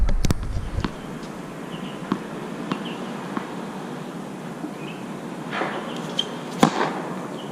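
A tennis racket strikes the ball on a flat serve, giving sharp popping hits, a few spaced transients over a quiet outdoor background, with one loud crack near the end.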